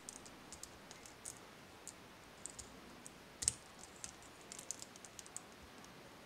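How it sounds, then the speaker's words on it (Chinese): Plastic parts of a Transformers RP02 toy clicking as they are rotated and folded during transformation, with a series of faint, irregular small clicks and one sharper snap near the middle, no talking. "首先把翅膀尖儿拨起来，这一块零件旋转，"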